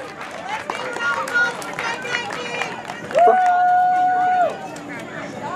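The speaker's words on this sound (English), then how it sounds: "Give a round of applause for our winners and competitors" An audience at a high school speech contest claps for winners and competitors, a moderate spread of applause mixed with chatter, with a brief, louder whistle-like tone rising partway through.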